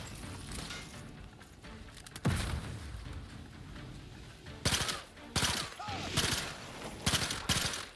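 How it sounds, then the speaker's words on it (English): A Zeranium grenade goes off during a game of ARC Raiders, with several sharp, loud blasts and bursts of gunfire mixed in at irregular intervals over a steady, noisy battlefield background. "Zeranium grenade. Taste that."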